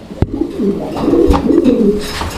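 An Afsan grizzle pigeon coos in a close, continuous series of throaty, rolling calls, with a sharp tap near the start and no voices over it.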